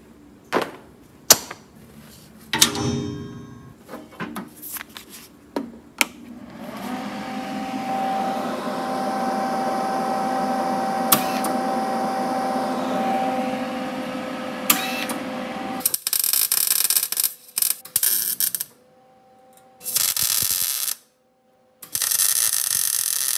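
Wire-feed welding with thin 24 gauge wire on the body of a VW Karmann Ghia during restoration, a steady crackling buzz in sustained bursts broken by short pauses, close and fairly loud.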